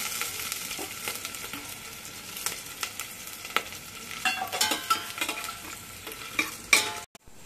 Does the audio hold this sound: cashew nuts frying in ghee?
yes